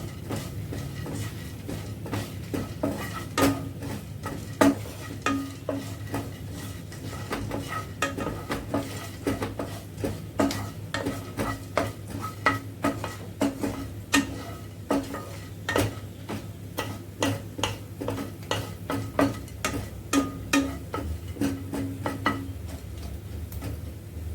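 Spices roast in a small amount of oil in a pan for paneer pepper Chettinad, with a low constant sizzle under frequent quick metal spoon clinks and scrapes against the pan.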